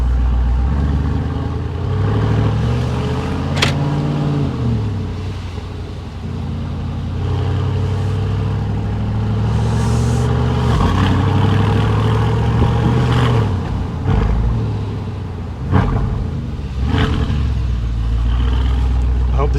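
A Mercedes-AMG G63 V8 fitted with a Capristo exhaust idles and revs up close, its deep steady rumble swelling and falling through the clip, with someone talking over it.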